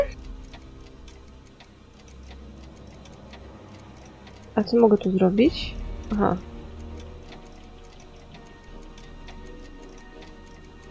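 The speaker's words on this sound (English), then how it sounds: "Jeszcze mnie interesuje ten zegar tutaj." A clock ticks in the Back to the Future video game with a steady, even rhythm that runs the whole time. Someone speaks briefly over the middle of it.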